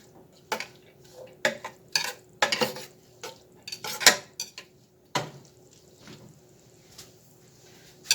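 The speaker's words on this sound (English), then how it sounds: "Give it a stir." A spoon stirs onions in a pot for chicken gnocchi soup, knocking and scraping in irregular bursts of clinks against the metal, with a faint sizzle running underneath between strokes.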